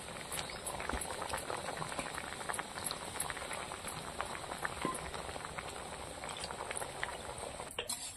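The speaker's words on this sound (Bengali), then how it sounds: "এবার তরকারিটা কিছুক্ষণ ফুটিয়ে নেব।" Curry thickened with gram flour mixed in water boiling steadily in a pot, a dense, continuous bubbling and popping that stays even throughout with no talk.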